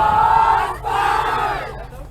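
Ultimate frisbee team shouting a loud group cheer before a game, a short burst of crowd voices, close and forceful, fading briefly then rising again.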